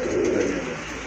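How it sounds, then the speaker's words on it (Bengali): A Jacobin pigeon coos at close range in a pigeon farm, one short, low, throaty burst that fades slightly toward the end. "এটা হচ্ছে আপনার জ্যাকোবিন কবুতর মাশাআল্লাহ, একদম কিন্তু ফ্রেশ কবুতর ভাইয়া"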